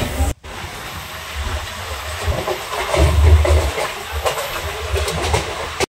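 A moving train heard from on board, a loud, steady rumble and hiss with faint rhythmic clatter that swells slightly midway and carries on without a break.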